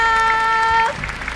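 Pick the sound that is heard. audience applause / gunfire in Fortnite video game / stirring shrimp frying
audience applause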